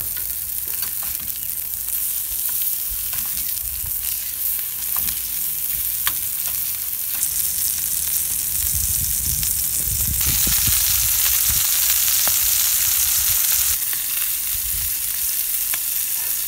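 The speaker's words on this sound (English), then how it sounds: "So I've got some just plain pork patties here. I'll put them on." Plain pork patties seasoned with smoky mesquite rub sizzle and fry steadily on a hot camping griddle, a continuous close crackle that swells louder partway through, with no talking.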